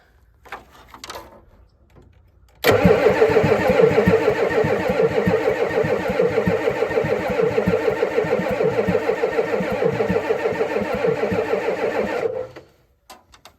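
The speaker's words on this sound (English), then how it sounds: "then we'll crank her over and see what happens" A 1988 Ford F350 with a 7.3 IDI diesel engine cranks over in one long, loud, rhythmic churn lasting about ten seconds, then stops; brief faint noises before and after.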